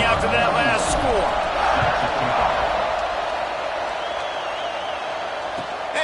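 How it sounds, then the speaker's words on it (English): A stadium crowd buzzes loudly and steadily in the College Football 25 video game, a dense roar of cheering with scattered whoops and thuds throughout. "this crowd is buzzing after that last score"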